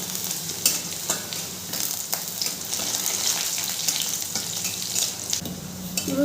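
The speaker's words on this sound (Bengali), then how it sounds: "রসুনটা খুব ভালো করে নেড়ে চেড়ে ভেজে নেব।" Crushed garlic frying in hot oil in a pan while being stirred, a continuous sizzle with scraping stir strokes and small clinks, close and steady, with no talking.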